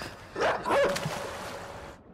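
Yips and short barks from a dog in a video game where three dogs give chase, a few quick bursts close up in the first second, then a fainter trailing whimper with no talk.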